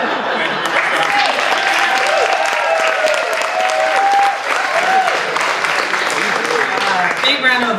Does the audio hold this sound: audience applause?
yes